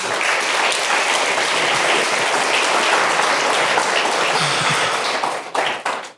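A church congregation claps in a dense, sustained wash of applause that holds steady for several seconds before tapering off abruptly at the end.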